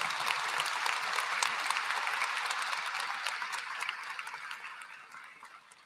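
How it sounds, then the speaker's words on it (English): Audience at a high school graduation ceremony gives sustained applause, a broad, even wash of clapping from a large crowd in a big hall that gradually thins and fades toward the end. "Let's give them a round of applause"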